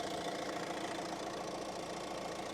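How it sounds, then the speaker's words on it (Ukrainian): A Renault Scenic 1.6 diesel engine idles with an even, continuous rumble and a light knocking texture, close by and unchanging throughout. "Зараз заведу двигун"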